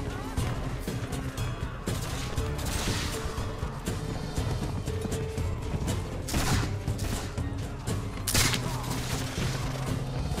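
Musket volleys crackle in the video game Mount & Blade With Fire and Sword, ragged bursts of gunfire rolling over a dense, noisy battle din with scattered louder cracks.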